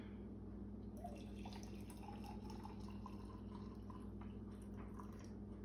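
Boiling water trickles and drips steadily into a container, a thin liquid pour of 1.5 cups running for several seconds over a low constant hum.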